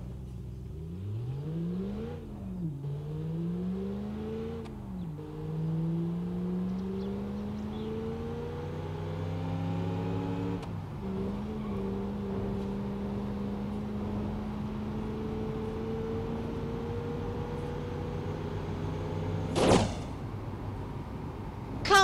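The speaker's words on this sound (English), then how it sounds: "Let's see if I can get this truck to do 100 miles an hour." A Gavril Bandito truck accelerates in BeamNG Drive, its engine revving up through several gear shifts with rising and dropping pitch, then holding a steady drone, with a sharp clank near the end.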